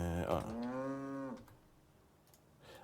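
A cow in the survival game Icarus gives one long, loud, tonal moo lasting over a second, then quiet game ambience with faint clicks.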